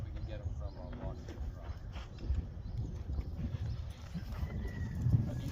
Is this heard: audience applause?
no